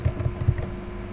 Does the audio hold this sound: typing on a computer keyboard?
yes